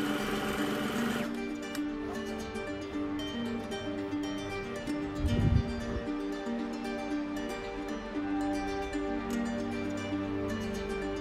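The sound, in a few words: sewing machine top stitching a blouse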